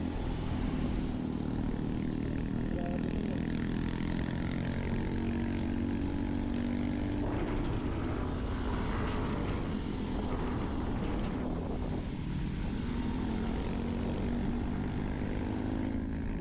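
Motorcycle engine labouring up a very steep, rough mountain pass in Aurora Province, a continuous droning engine note mixed with heavy wind buffeting on the microphone, steady and unbroken throughout.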